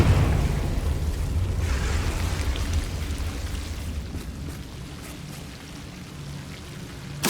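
A Confringo blasting spell bursts in the Hogwarts Legacy video game, a loud rumbling blast that fades slowly over several seconds, followed by a small thump at the end.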